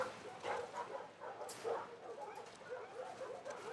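A dog in the video game The Last of Us Part II gives soft, faint yips and whimpers, a few brief cries set low under quiet game ambience.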